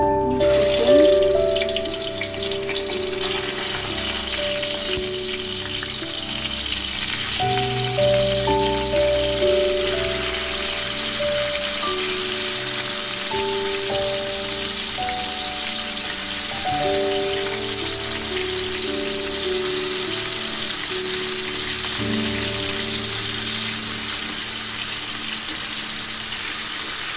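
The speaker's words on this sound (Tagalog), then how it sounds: "At i-prito muna natin siya dito ng kaunti." Chicken pieces for afritada sizzle in a hot pan with a dense, continuous crackle and hiss that holds steady for nearly half a minute, loud and close, with no talk.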